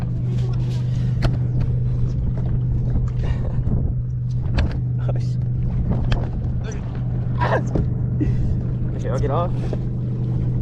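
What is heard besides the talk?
boat motor running on a lake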